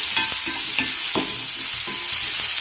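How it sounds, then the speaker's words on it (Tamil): Shallots sauté in a hot pan for a greens kootu, giving a continuous sizzle broken by several crisp scraping strokes as they are stirred, close and fairly loud with no voices. "சின்ன வெங்காயம் ஆட் பண்ணிக்கோங்க நல்லா வதங்கட்டும் டிரான்ஸ்பரண்ட் ஆகட்டும்"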